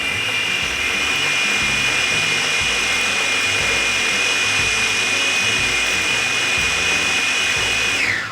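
A countertop blender whirs steadily, blending chili paste with oil for crispy chili; one continuous loud motor drone with a high whine that holds evenly, then cuts off at the very end.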